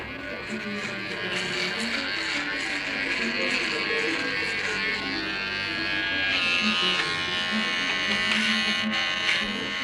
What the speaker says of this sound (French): Gilbert Bécaud, je peux vous parler pendant que vous vous rasez?